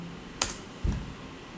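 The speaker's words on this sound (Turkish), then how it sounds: "Hemen SMTP yazıyorum." Two or three faint, quick clicks from a computer keyboard, like short typing strokes, in a quiet room without talking.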